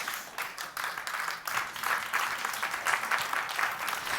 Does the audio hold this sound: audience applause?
yes